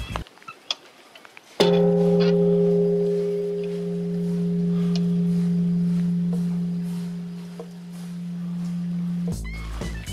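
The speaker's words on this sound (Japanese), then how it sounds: "本堂の隣に鐘がありますね" A large temple bell at Onzan-ji, a Shikoku pilgrimage temple, is struck once and rings out with a long, steady sustained hum for several seconds, preceded by a few faint knocks.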